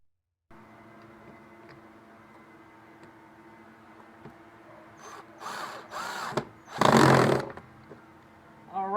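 A power drill drives screws through a hopper window frame into 2x4 lumber, with low machine hum before a few loud, short whirring bursts near the end.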